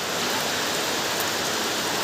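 Rain falling outdoors, a dense, even hiss of drops on surfaces throughout, steady and fairly close with no voices.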